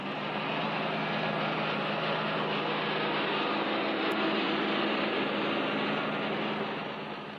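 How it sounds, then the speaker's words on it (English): A heavy Ford tractor engine with a Select-o-Speed transmission drones steadily and loudly under strain while pulling a load, a constant low rumble with no pauses or gear changes. "Listen to that engine."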